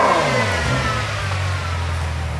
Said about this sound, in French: La Super Pog, une Ferrari 812 Superfast.